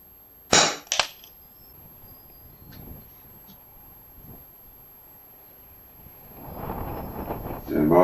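Two sharp close shots from an FX Wildcat Mk.3 air rifle in a breezy outdoor setting, a quick crack then a second, followed by quiet wind noise and a low voice near the end.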